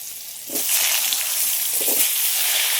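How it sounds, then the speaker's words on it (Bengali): Potatoes fry in oil left over from frying shol fish. Quiet at first, then a loud, steady sizzle and crackle erupts after half a second and holds to the end, with no talking. "এই মাছ ভাজা তেলের মধ্যে আলুগুলোও ভেজে নেব।"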